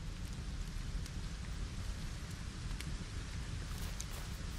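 Steady rain pouring down in the video game Fortnite, a dense constant hiss of falling drops with a few sharper drip ticks, fairly quiet and heard alone without talking.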